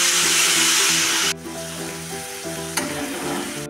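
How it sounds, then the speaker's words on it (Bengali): Shrimp, green chillies and garlic fry in a pan, starting as a loud hissing sizzle that drops sharply to a quieter bubbling fry, with a short scrape or clatter late on. "চিংড়ি মাছগুলোকে, লঙ্কাগুলোকে, রসুনগুলোকে ভালো করে ভেজে নেব।"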